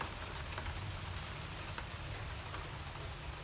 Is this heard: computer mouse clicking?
no